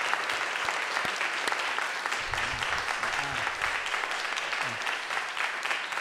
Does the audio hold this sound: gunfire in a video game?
no